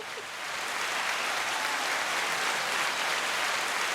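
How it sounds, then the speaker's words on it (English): Steady, dense applause from a small group, sustained and fairly loud throughout, with no talking over it. "Let me hit the round of applause for that one."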